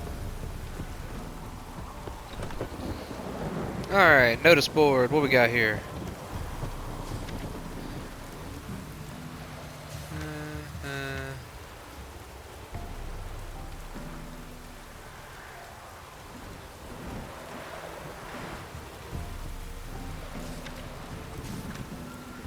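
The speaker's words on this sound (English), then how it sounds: "It sure does rain here." Rain and thunder in The Witcher 3 game world at night by a boardwalk, a soft steady rain bed under someone talking and occasional game sounds, with brief rumbles.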